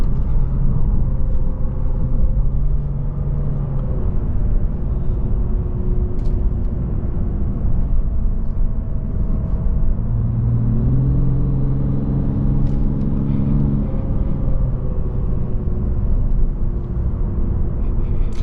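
A 2022 Lexus RC350 F Sport's engine drones with a steady, deep induction growl around 2,000–3,000 RPM, its pitch rising and falling gently as the car cruises along Mt. Hamilton Road.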